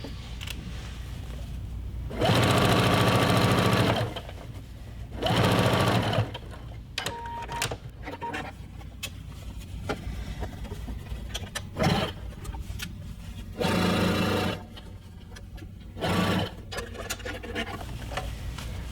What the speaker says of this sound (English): I'm increasing the length to 5, and I'm just going to baste this in place about 1/8 an inch on the inside of the rock.